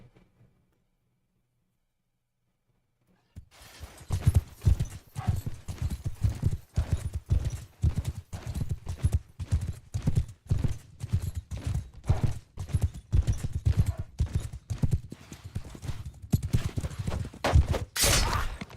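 Horses gallop in a multiplayer video game match, with rapid thudding hoofbeats in a dense, uneven rhythm that starts abruptly after a short silence and stays loud and close.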